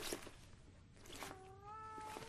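A cat meows in a drawn-out, rising call near the end, with a shorter cry before it, heard up close indoors with no talking.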